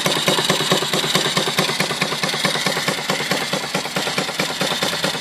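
An off-grid steam engine driving an alternator runs steadily, with a fast, even chuffing beat sounding close and loud throughout, without pause.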